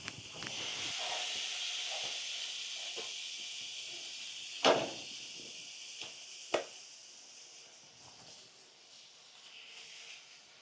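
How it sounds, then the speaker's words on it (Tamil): Fish frying in hot oil on a heated dosa tawa, with a steady broadband sizzle and hiss throughout, punctuated by two sharp spattering pops near the middle. "அப்படியே எண்ணெயை ஊற்றிட்டு மீனை வறுத்துருவோம்"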